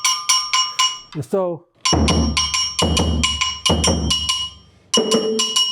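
A metal hand bell used for Mandiani drumming is struck repeatedly with a beat-up wooden stick, giving loud, ringing clanks in a quick uneven rhythm at close range, with someone speaking briefly between strikes.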